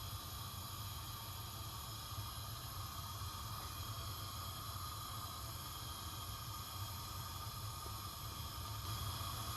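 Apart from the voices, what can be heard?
tuna bricks frying in hot oil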